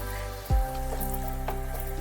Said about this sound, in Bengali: বেশ ভালো করে তেলের সাথে এটাকে কষাতে হবে যাতে পালং শাকটা তেলের সাথে বেশ ভাজা ভাজা হয়ে যায়